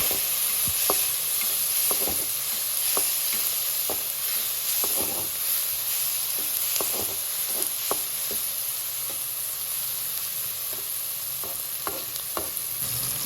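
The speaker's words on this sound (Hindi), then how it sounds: "अब इसमें टमाटर और मिर्च डाल दें। इनको अच्छी तरह मिक्स कर लें।" Tomatoes and chillies frying with browned onions for palak gosht, a steady sizzle and hiss from the pan broken by regular sharp scrapes and taps of a spoon stirring, close and clear with no talking.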